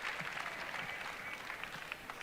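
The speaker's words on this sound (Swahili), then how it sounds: "Pigia daktari makofi." An audience applauds a doctor at a Thika Institute gathering, with steady, dense clapping that stays fairly faint and even throughout, and no voices standing out.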